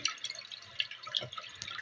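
Water drips from a leak in a ceiling, a quick irregular series of close, bright plinks and splats over a faint background.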